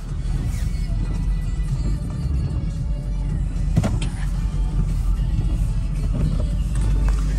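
A vehicle reversing into position so a car can be loaded for transport, heard as a continuous low rumble with scattered mechanical knocks, fairly close and with no talking.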